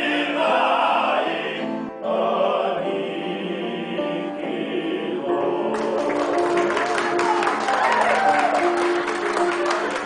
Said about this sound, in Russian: Овации в холле Тель-Авивского Ренессанса